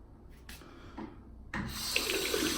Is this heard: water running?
yes